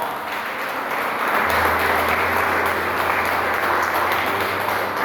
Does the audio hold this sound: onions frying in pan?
no